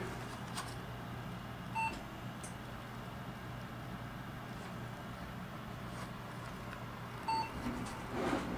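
Two short electronic beeps from an HP Elitebook 8770w laptop booting with an Nvidia GeForce GTX 580 external GPU, faint and spaced about five seconds apart over a steady low background hum.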